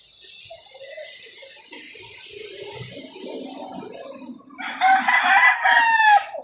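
Chickens in an urban neighbourhood in Makati and Mandaluyong: soft clucking and murmuring from a flock fills the first part, then a rooster crows loudly and close near the end.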